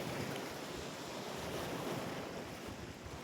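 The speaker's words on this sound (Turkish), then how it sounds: "Dün gece göl biraz durgundu ama bu sabah bayağı dalgalı" Waves wash against the shore of a choppy lake at a campsite, a continuous dense rushing roar mixed with wind buffeting the microphone, steady and fairly close with no voices.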